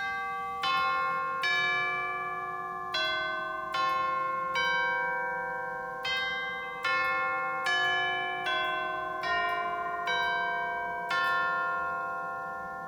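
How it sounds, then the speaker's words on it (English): Chimes from the solo division of a large church pipe organ ring out a slow melody, each struck tone bright and bell-like with a long ringing decay that overlaps the next, loud and alone in a reverberant space. "First, the chimes."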